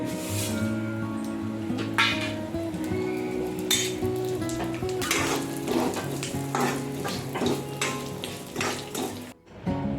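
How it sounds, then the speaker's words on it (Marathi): A spice masala of cumin, sesame, coriander, coconut, garlic, ginger and fried onion roasts in a pan. It crackles and sizzles close up, with repeated scraping stirs over a low background hum that briefly cuts out near the end. "हा मसाला भाजून घेत आहे."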